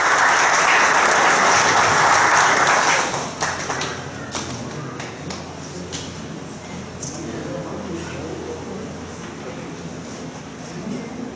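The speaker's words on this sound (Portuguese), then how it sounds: "Nós recebemos com uma salva de palmas." An audience at a city council ceremony in Valparaíso, Goiás gives a loud burst of applause that lasts about three seconds. It then drops to scattered taps, thuds and room noise.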